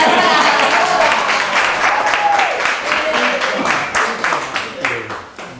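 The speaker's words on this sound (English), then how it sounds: "applause is nice" An audience at a Healing Heart Retreat dharma talk applauds the speaker, with a steady wash of clapping that gradually breaks into scattered individual claps as it dies down, and a voice is faintly heard beneath it.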